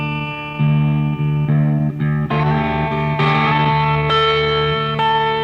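Heavily distorted synth chords made in Ableton ring out in a steady sequence of sustained notes, gritty and loud, with no voices.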